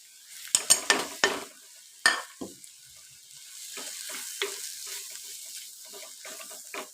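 Spice powders stirred and fried in a pan: a few crisp scraping strokes near the start, then a soft, continuous sizzle with light intermittent scrapes, close and fairly quiet.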